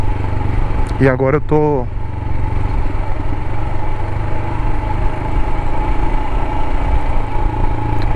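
A Royal Enfield Himalayan motorcycle engine runs steadily throughout, a continuous low mechanical drone close to the microphone, with a brief spoken phrase near the start.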